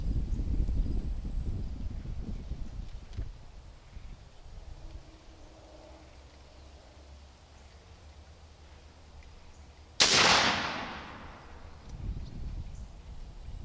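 A .45 BushPig air rifle fires once, a sharp, loud crack with a long decaying tail, after several seconds of quiet outdoor ambience with wind.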